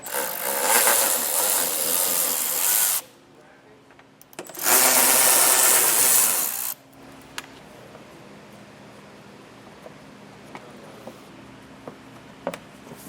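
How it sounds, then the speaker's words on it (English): A power tool, likely an impact driver or drill, runs in two loud bursts of a few seconds each while removing 10mm bolts from a 2021 Jaguar during a trailer hitch install. Faint clicks and light handling noises follow. "those are going to require a 10mm socket. So we'll get that all removed"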